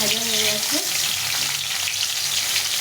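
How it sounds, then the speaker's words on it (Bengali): A carrot fries in hot white oil in a kadai, giving a close, continuous sizzle with light crackling, after a brief low hum at the start; no voices. "তেলটা গরম হয়ে গেছে প্রথমে একটা গাজর আমি ভেজে নিতে"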